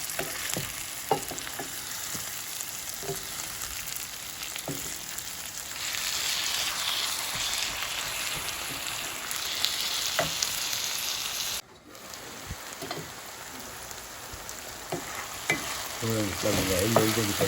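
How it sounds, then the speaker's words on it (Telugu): Minced keema sizzles in hot oil with browned onions while a spoon stirs it, a steady close frying hiss broken by regular scraping knocks, with a short pause near the middle. "ఇప్పుడు ఈ కీమను ఇందులో వేసేసుకుందాం"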